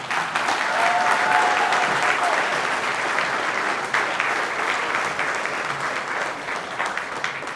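Sustained applause from an audience at the 2025 California Wrestling Hall of Fame Lifetime Service Awards ceremony, a dense, loud wash of clapping that holds steady for several seconds with faint cheering mixed in.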